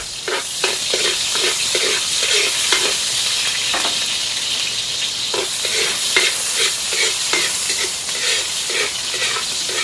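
Chopped onion sautéing in a hot pan, a continuous bright sizzle and hiss broken by regular scraping stirs, close and loud with no talking.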